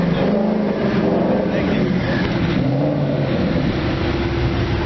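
A Ford Mustang, Boss 302 or Mach 1 at the Woodward Dream Cruise, with a steady, throaty exhaust rumble that stays close and continuous amid the outdoor car show noise.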